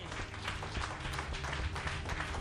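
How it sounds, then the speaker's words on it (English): Church congregation clapping hands together at a worship service, a dense, steady wash of applause filling the room throughout. "Can we clap hands for Jesus?"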